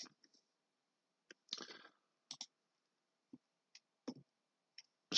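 Scattered computer mouse clicks in quiet surroundings while a design table is opened in SolidWorks, some single and some in quick pairs, sharp and close with no talk.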